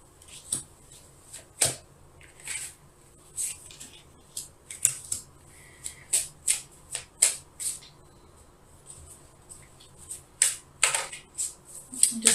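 Tarot cards being gathered and shuffled by hand, giving a run of crisp, irregular snaps and riffling flicks close by, with no one talking.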